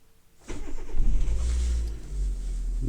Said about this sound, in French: Donc là, on va mettre le moteur en route.